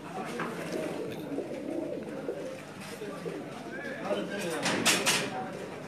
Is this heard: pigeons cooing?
yes